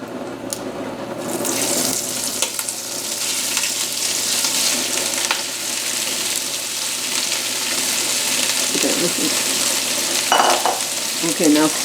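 Meat for a Cajun jambalaya sizzles in a hot pan while being stirred, a dense continuous hiss of frying with scraping and clinks of the spoon scattered through, close and steady, with no voices.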